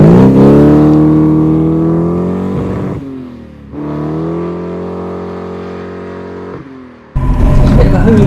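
A modified Austin A35 with a 948cc engine drives along, its engine droning loudly in sustained, rising pulls with brief lifts between gear changes, heard close from inside the car.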